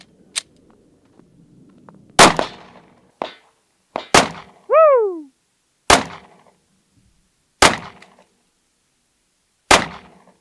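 Sharp rifle shots, including from a .50 caliber rifle, strike a stainless steel Cybertruck door, about seven loud isolated cracks spaced a second or two apart, one followed by a descending ringing tone, with faint background sounds between.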